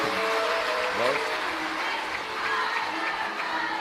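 A crowd applauds at a Shiv Mahapuran katha, a broad steady wash of clapping that runs the whole time under a voice and tonal sounds.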